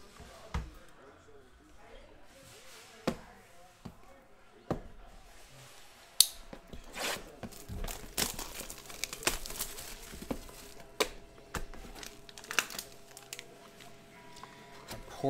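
Packs of 2015-16 Panini Gala basketball trading cards are torn and crinkled open in short, sharp bursts, first sparse and then a denser run of rips and rustles of foil wrappers, close and fairly quiet.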